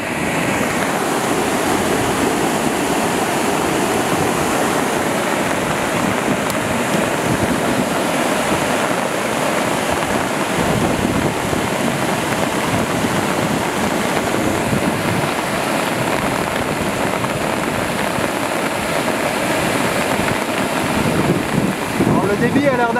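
A strong, steady wind roars across the microphone without pause, with a dense wash of heavy rain, during a storm by a mountain torrent.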